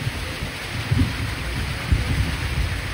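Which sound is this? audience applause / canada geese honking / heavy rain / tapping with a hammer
heavy rain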